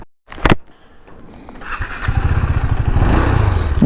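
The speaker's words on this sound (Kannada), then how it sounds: "ಗಾಡಿ ಸೌಂಡು ತುಂಬ ಲೋಡ್ ಆಗಿದೆ" A KTM Duke 390 motorcycle engine starts with a sharp burst, then idles and revs into a loud, throbbing rumble close by.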